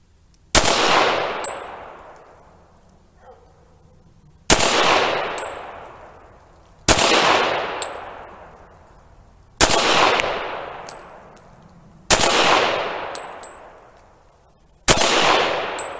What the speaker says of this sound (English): First shots out of the Rock Island 1911